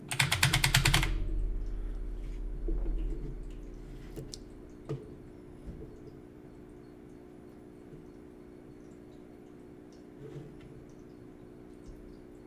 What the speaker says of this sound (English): I can stay with using my clicky clacky keyboard